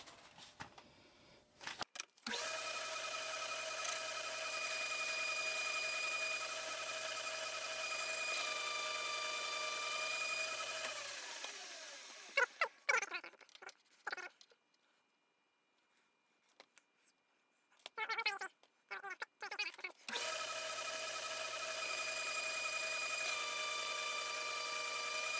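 Metal lathe cutting down a dovetail cutter blank to its maximum diameter: a steady, loud tonal whine with harmonics that runs, cuts out briefly for clattering handling sounds and near silence, then resumes.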